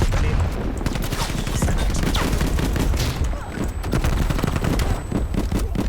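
Street Sweeper shotgun fires in rapid bursts in the video game Call of Duty Black Ops Cold War, a dense fusillade of loud cracking shots across several seconds amid game noise.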